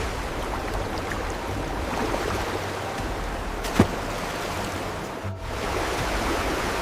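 A rushing river in Kamchatka where sockeye salmon run upstream, giving a steady, dense wash of water noise that fills the whole clip with one brief sharp tick partway through and no voices.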